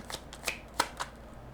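Tarot cards are handled during a reading, a few quick crisp slaps and shuffles close by, brief and light against a quiet background.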